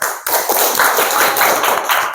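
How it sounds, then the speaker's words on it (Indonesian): Students in a classroom clap their hands together in quick, dense applause for about two seconds after a brief pause. "Ya, tepuk tangan."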